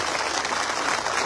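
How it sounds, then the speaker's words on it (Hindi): Crowd clapping at an outdoor political rally in Barmer, a continuous broadband wash of many hands applauding, loud and sustained for the whole moment with no speech on top. "जब आपके तालियों की आवाज वहां बाहर तक जाएगी"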